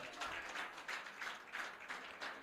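Audience at a political party area council meeting applauds, a faint, distant, steady wash of clapping lasting a couple of seconds with no speech over it.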